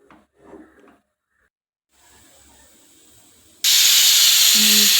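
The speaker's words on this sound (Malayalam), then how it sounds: "2 വിസിലോടെ നമുക്ക് ഇത് ഓഫ് ചെയ്യാം" A pressure cooker of sambar on a gas stove bursts into a loud, continuous steam hiss after a few seconds of faint rustling and near silence, then holds steady to the end.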